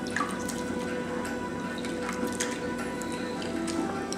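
Tamarind pulp squeezed by hand in a bowl of water in a home kitchen, soft wet squishes and light drips over a steady low background hum, fairly quiet and close, no talking.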